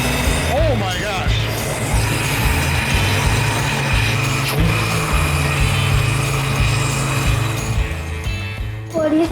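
A 1981 Malibu's engine runs steadily and spools up on its own without reason, a suspected throttle-body fault, giving a close, continuous low drone with brief rising whines as people talk nearby.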